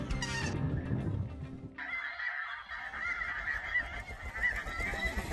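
Geese honk loudly and repeatedly, close by, overlapping into a raucous chorus after a brief burst of calls at the start.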